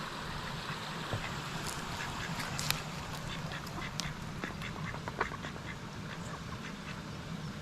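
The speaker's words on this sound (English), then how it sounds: "Here's some ducks." Several ducks quack repeatedly at a garden pond beside a stream, a lively scatter of overlapping calls at moderate distance over a steady outdoor hiss, with no talking.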